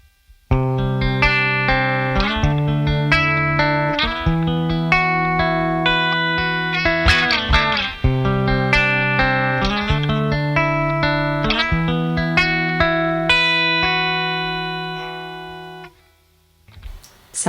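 Electric guitar played with the reverb dial set around ten o'clock, sustained chords and picked notes ringing with a lush wet tail, loud and alone, fading out near the end.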